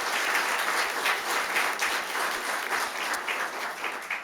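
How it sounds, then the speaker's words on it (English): Audience applause at a fire department awards ceremony honoring an officer receiving a commendation, steady dense clapping from a sizable crowd filling the room, close and sustained throughout. "a round of applause for Officer Prezzato"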